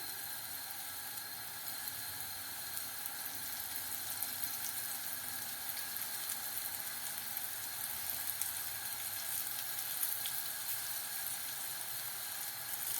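Raw plantain slices fry in hot oil with a steady, even sizzle and crackle that runs unbroken throughout, close and moderately loud, with no voices.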